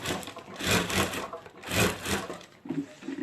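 A sewing machine stitches a handbag in two short whirring runs, each about a second long, with a pause between and faint handling noise after.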